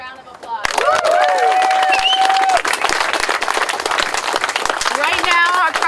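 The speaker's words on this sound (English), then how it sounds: "Let's give everyone a round of applause." A union rally crowd outside Apple headquarters breaks into loud, sustained applause with cheers and whoops, the clapping dense and continuous and close.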